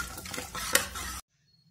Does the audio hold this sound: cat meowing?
no